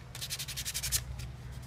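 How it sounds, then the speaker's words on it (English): Sandpaper, 60 grit, is rubbed by hand over plastic interior trim of a Subaru WRX to take off the original paint, making about ten quick, even scratchy strokes close up. "I'm just sanding it so it gets smooth and soft."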